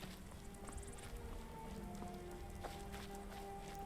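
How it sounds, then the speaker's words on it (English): Rain falls in Skyrim as a steady, even hiss of raindrops across the whole stretch, with faint ambient tones beneath and no talking. "And of course it starts raining."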